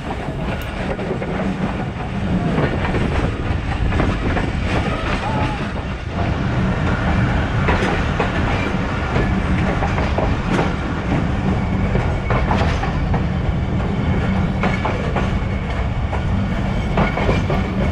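The Thal Express passenger train runs on rails between Rawalpindi and Multan, heard from on board as a loud continuous rumble with steady clickety-clack of wheels over joints throughout.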